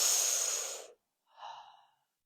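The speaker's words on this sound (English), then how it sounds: "breathing into your hands" One deep, long breath moves through a guided breathing exercise, with a strong airy exhale followed after a short pause by a softer, shorter inhale, close and with no talk.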